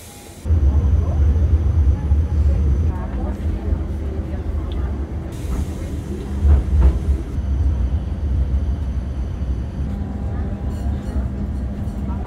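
Interior of a moving tram on a very long city line, with a constant low rolling rumble and intermittent rattles and faint high squeals, while a voice talks over the ride.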